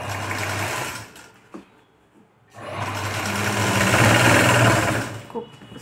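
Sewing machine stitching a puff sleeve runs in two bursts, a short whirring run and then a longer steady one after a brief pause, fairly close and clear.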